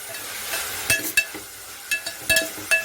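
Chopped tomatoes sautéing with onion in a pan for South Indian sambhar, a low sizzle under repeated sharp clinks and scrapes of a spoon stirring against the pan.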